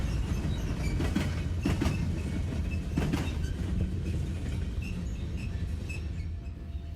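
CSX freight train 602 rolls steadily past with its DPU in Cordele, Georgia. It makes a continuous low rumble with rhythmic clickety-clack from the wheels, faint metallic squeals and a fading tail at the end, with no talk.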